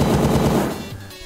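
A rapid burst of video game gunfire from 20XX rattles off in quick repeated shots, loud and close, then cuts off and fades within about a second.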